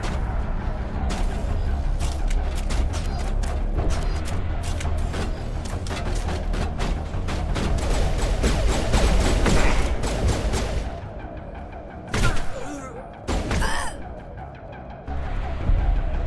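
Sustained rapid gunfire in Mass Effect 1, a dense, loud stream of shots lasting about eleven seconds, then a pause and two short separate bursts.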